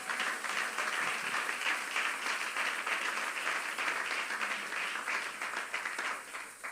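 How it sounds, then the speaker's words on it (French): A congregation at a Monday prayer marathon applauds loudly and continuously, a dense wash of many hands clapping at close range that holds steady throughout. "On acclame très fort le Seigneur."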